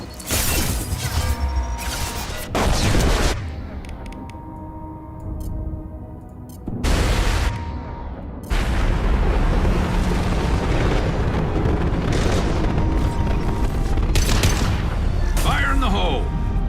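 Explosions in Mass Effect 2 on PC: several loud, sudden blasts break through roaring combat noise, with brief quieter gaps between heavy bursts and voices heard faintly amid the chaos.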